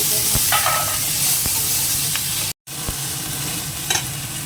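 Ginger paste and tomato hit hot oil that already holds dried red chilies, producing a loud, close sizzle with a few sharp stirring clicks and a momentary dropout midway.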